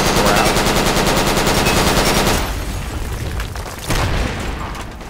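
Sustained rapid automatic AK rifle fire in the military game Project Reality, loud and close at first, then more distant bursts and a sharp report near the end, with no talk.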